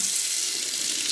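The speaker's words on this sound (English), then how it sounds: "now turn the water on" Kitchen tap water runs steadily into a sink to rinse broccoli, a close, even hiss and splash lasting the full moment with no voices.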